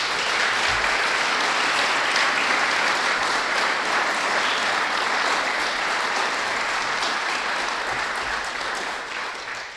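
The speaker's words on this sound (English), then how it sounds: "give him a round of applause for the work that he did" Sustained, even applause from an outdoor audience at a groundbreaking ceremony for an armory, many people clapping steadily for about ten seconds before it begins to fade.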